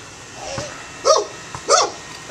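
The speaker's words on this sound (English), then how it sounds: "You know that's them police dogs." Police dogs barking outdoors: two loud, close barks about half a second apart, with a fainter yelp before them, over low background noise.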